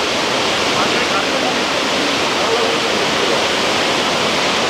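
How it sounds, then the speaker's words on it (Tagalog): Waterfall at a Fijian village roars in a dense, constant wash of falling water, loud and close with no break throughout. "Ayan ang ganap natin dito sa waterfalls."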